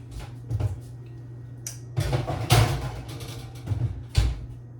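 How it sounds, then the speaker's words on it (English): Oven door and cookie sheet handling in a home kitchen: several separate knocks and clatters, one a fuller metallic bang, spread over a few seconds with quiet gaps between them, close up and with no voices. "I just put both our hobo burgers in the oven to cook"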